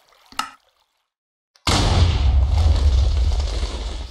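A TNT cannon fires in Minecraft: a short pop and a moment of silence, then a loud booming blast that rumbles on, followed by crackling debris noise.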